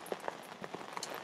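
Steady rain falls on a lakeside carp fishing swim, a dense hiss with scattered louder drop impacts close by; no voices, only the continuous wash of water striking surfaces.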